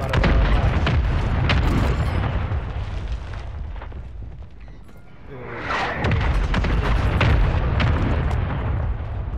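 Repeated mortar strike explosions boom through a Warzone match, heavy low-frequency blasts rolling in continuous waves, briefly easing before a fresh loud barrage erupts and keeps rumbling.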